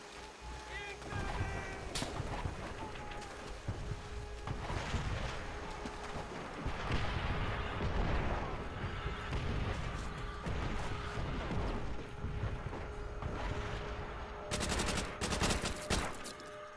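Enemy artillery and small-arms fire in the World War II shooter Call of Duty: World at War, with dense rattling gunfire and heavy blasts going on steadily, loud and close throughout.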